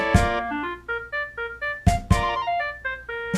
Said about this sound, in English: and the clarinet sounds like this.